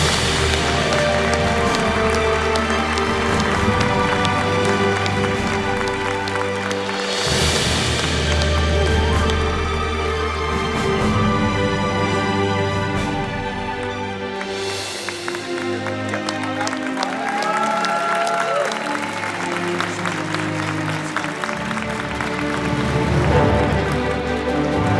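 An audience applauding and cheering throughout at the James Beard Restaurant and Chef Awards, a sustained loud crowd clapping mixed with music and occasional louder swells.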